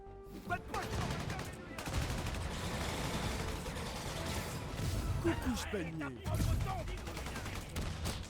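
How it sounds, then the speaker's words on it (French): Gunfire in a shootout in the video game Marvel's Spider-Man, continuous rattling bursts of shots amid dense game action, with voices talking over the fighting. "on a besoin d'agents pour une fusillade en cours"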